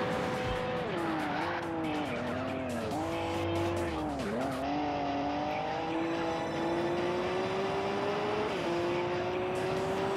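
The Devil Z racing car in the Wangan Midnight game on PS3 accelerates hard through its lower gears, the loud engine note climbing and dropping with each gear change, with brief tire squeal early on and no talking.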